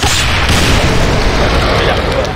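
Explosion in a first-person shooter game after a shot at a box, a loud dense boom that fills the whole moment and rolls on without a break, close and heavy.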